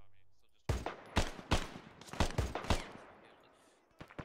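Military game firefight with sharp, loud gunshots in irregular bursts and single cracks, some close and overlapping, ending in a brief lull and a final pair of shots.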